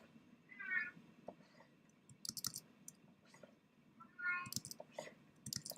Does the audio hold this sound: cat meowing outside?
yes